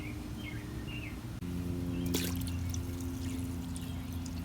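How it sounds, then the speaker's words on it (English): Water poured into a container of plant material for a fermented plant mix, a steady, close pouring sound with a short burst of splashing midway, alongside faint bird calls. "So you're filling it with water."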